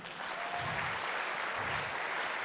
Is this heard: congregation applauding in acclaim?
yes